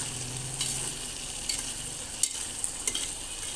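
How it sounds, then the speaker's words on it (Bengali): Food slowly sautéing in a pan gives a continuous close sizzle, broken by scattered scrapes and clinks of a spoon stirring against the pan. No voices. "আস্তে আস্তে কষানো হইতে থাক।"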